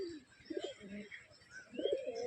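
Fancy pigeons, including a Kalanka hen, coo softly in two bursts of low throaty notes with brief chirps between them, fairly faint over a quiet room.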